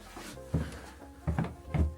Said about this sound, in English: Move the vanity.